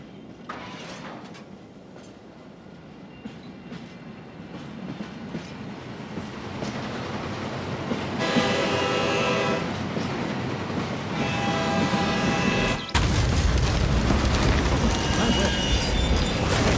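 A train pulls into a rail yard in a Hitman 2 game scene, its rolling wagons, clatter and horn building loud and close over a low rumble, with a sudden heavier surge near the end and faint voices underneath.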